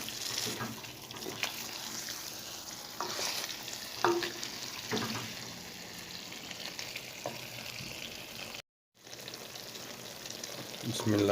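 Chicken karahi is stirred in a pan over a steady sizzle, with scattered scrapes and clinks of the spoon throughout and a brief dropout near the end.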